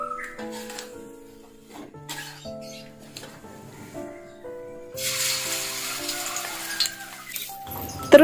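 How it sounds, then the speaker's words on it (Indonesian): Battered tofu frying in a pan starts a steady, bright sizzle partway through, after a stretch of soft background music that keeps playing underneath. "Terus ini aku lanjut goreng tahunya atau tepung goreng tahu kayak gitu ya"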